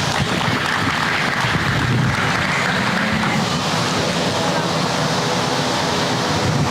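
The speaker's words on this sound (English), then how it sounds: "Give these young three a round of applause, if you would, please" Applause for three young showmen and their crossbred heifers at a 4-H beef cattle show, a steady dense wash of clapping held at an even level throughout, with a faint voice underneath.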